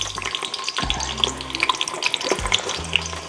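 Sliced yellow onions fry in ghee with a steady crackling sizzle, dotted with bright pops and spatters, while a few low knocks and scrapes of a utensil against the pot come through close by.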